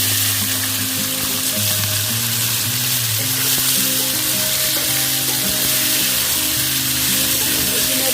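Red chillies and hog plums frying in hot oil for a sweet-sour pickle, a steady dense sizzle running unbroken throughout with occasional stirring and utensil scrapes, close and fairly loud with no talking.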